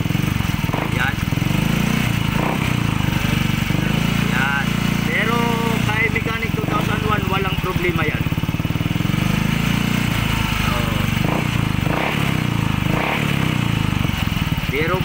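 A Yamaha Mio i 125 S scooter engine idles steadily and loudly with a rapid ticking clatter from the rocker arm throughout, while someone talks over it.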